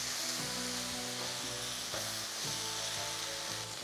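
Szechuan sauce cooks down in a pan with a dense, continuous hiss and sizzle, while soft stirring sounds and faint low clatter come through underneath.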